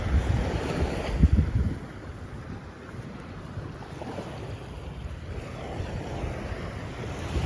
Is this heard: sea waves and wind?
yes